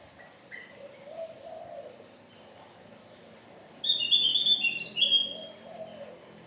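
A Javan grey-throated white-eye sings a quick burst of high, bright chirping notes, preceded by softer, lower calls in a fairly quiet outdoor setting.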